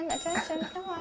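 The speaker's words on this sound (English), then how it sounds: "that was the cat ringing the bell" A cat rings a small bell with a bright, ringing chime that rises and decays under a voice speaking close by.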